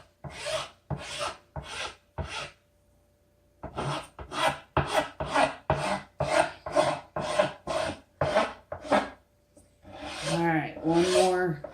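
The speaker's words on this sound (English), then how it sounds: "Not sure you can hear me over the file much anyway." A rasp files a face lifecast in a rapid series of loud, close, rough strokes, with a short pause partway through and a softer, rubbing scrape at the end.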